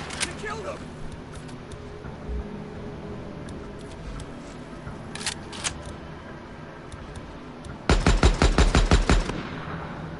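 Gunfire in the video game Days Gone, with scattered single shots early on, then a rapid, loud burst of about ten evenly spaced blasts near the end over steady background game ambience.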